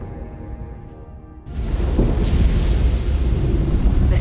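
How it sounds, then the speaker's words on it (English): A loud thunderstorm from the video game Star Trek Resurgence: a low rumble builds, then a sudden heavy wash of rain and thunder sets in and roars on steadily, with no talk. "The storm is getting worse."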